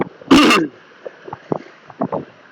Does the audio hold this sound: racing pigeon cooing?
no